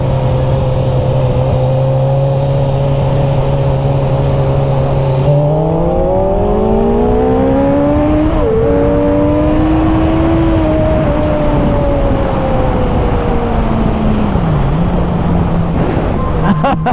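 Triumph Street Triple motorcycles accelerating in second gear around 60 km/h, engine pitch climbing in smooth sweeps with a gear change partway through, loud and close under wind rush.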